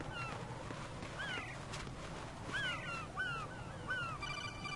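Birds in the Metal Gear Solid 2 video game give a few short, rising chirping calls, scattered over a steady background hum of ambient noise.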